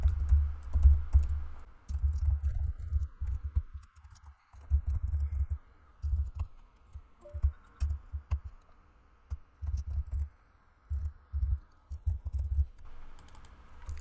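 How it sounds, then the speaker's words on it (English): Code being typed on a computer keyboard, bursts of rapid clicking keystrokes broken by short pauses, close and fairly soft, with no voices. "just typing out the rest of the code"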